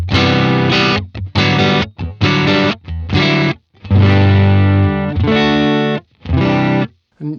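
An electric guitar with saturation dialed in through a Boss Space Echo RE-202 tape echo plays loud, sustained distorted chords and riffs in choppy phrases with brief gaps, close and alone.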